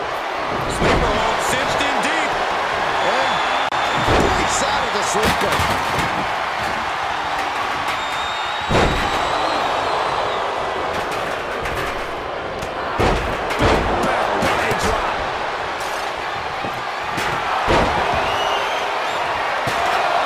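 Wrestling impacts in WWE 2K24 during an nWo Wolfpac Elite versus WCW War Games match: repeated heavy slams and thuds recurring every few seconds, loud and close under a continuous crowd roar and commentary.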